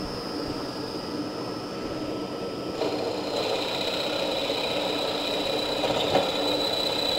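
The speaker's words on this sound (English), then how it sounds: "So let's say we'll open up this hole from 10 millimeter to about 12 millimeter. You can go a bit faster because it's aluminum." A machine tool bores out a hole in aluminum from 10 to 12 millimeters. It makes a steady, close mechanical whine and hum that continues without a break and grows slightly louder and brighter partway through.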